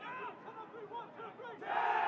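Lacrosse team benches at an outdoor stadium playoff game shout calls in a rhythmic chant, picked up faintly through crowd microphones, with a swell of crowd voices at the end.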